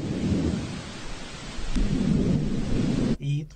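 Heavy rain pours in a continuous roar with a deep rumble of thunder swelling in the middle, loud and close, cutting off abruptly at the end as a brief voice begins.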